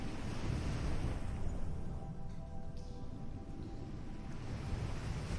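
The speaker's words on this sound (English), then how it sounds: "Only the sound of the ocean, the sound of the wind, the sound of your breathing." Steady roar of ocean surf mixed with gusting wind buffeting the microphone, continuous and loud, with no voices.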